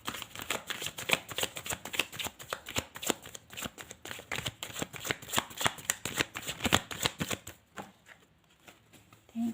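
Tarot cards are shuffled steadily for several seconds, a dense riffling patter of card edges close to the listener that tapers off near the end. No voice is heard.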